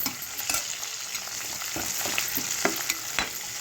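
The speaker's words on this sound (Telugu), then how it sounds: "ఉల్లిపాయలు వేగుతున్నాయి ఫ్రెండ్స్" Chopped onions, green chillies and curry leaves fry in oil for a brinjal fry, giving a steady close sizzle scattered with sharp crackles and pops throughout.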